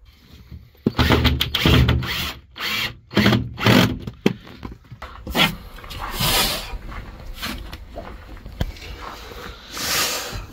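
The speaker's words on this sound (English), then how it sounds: "Time to screw our bulkhead in." A bulkhead is screwed into a Peugeot Boxer campervan conversion: close, uneven bursts of screwing and driving noise mixed with woody knocks and clatter, then a rougher rustling stretch toward the end.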